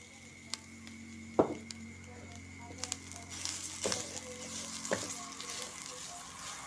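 Modak filling mixture with sugar being stir-fried in a pan, a faint, quiet sizzle punctuated by a few distinct spoon knocks and scrapes against the pan, no speech.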